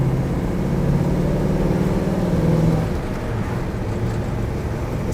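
A 1971 Chevrolet Nova with a 350 V8 and four-speed manual downshifting out of a turn, the engine droning loudly from inside the cabin, revs rising then dropping as the gear changes.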